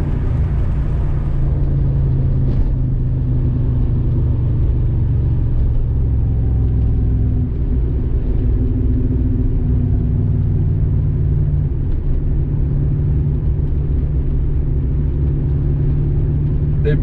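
A deep, steady V8 rumble from a moving car, either a 2007 Shelby GT Mustang or a 1981 Porsche 928 with an aftermarket exhaust, drones close and continuous with only slight swells in engine load.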